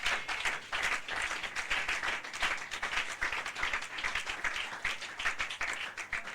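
A church congregation breaks into applause to acclaim the Lord, steady dense clapping from many hands that stays loud for several seconds with a faint voice underneath.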